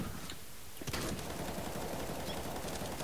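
MAG-7 shotgun fire in Counter-Strike: Global Offensive, a burst of rapid gunfire in a busy match after a quieter opening moment, fairly faint in the mix.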